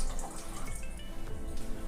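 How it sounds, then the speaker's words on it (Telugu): Water splashes and trickles steadily into a pot of moong dal dalcha, a continuous close pour with a faint dripping quality, no voices. "ఇప్పుడు ఒక చెంబు నీళ్ళు పోసుకోవాలి పైనుంచి"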